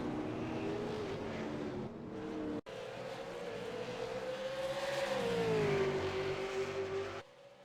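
V8 Supercar race cars at Mid Ohio drone past with a sustained engine note that climbs and falls through gear changes. One car is loud and close, followed by a brief cut and a fading finish.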